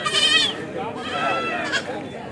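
Goats bleating at a busy weekly goat and sheep market, several wavering cries close by over a steady crowd murmur, with one short bleat near the end.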